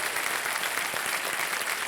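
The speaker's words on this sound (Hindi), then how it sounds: "जोरदार तालियां बज जाए शुभ्रा जी के लिए।" A studio audience on the KBC quiz show gives a contestant a steady, even burst of applause that fills the room without a break, with no talking over it.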